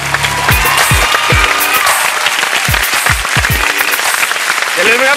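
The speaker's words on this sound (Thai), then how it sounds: "ขอเสียงปรบมือให้กับพวกเราทุกคนด้วยครับ" A crowd claps steadily, applause filling the clip, with a few voices and low thumps mixed in.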